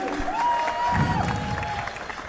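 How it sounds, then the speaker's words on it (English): A boxing crowd at a WBC Youth world title fight applauds and cheers after the bout, a broad roar of clapping and shouting with a sustained whistle or tone rising above it. "A round of applause for both our warriors. Make some noise."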